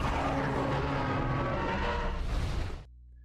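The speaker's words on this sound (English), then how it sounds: "That, my friends, is the sound of a great Jagras." Great Jagras monster from the Monster Hunter video game gives a loud, harsh, sustained growling roar lasting nearly three seconds before cutting off abruptly, heard alone with no talk.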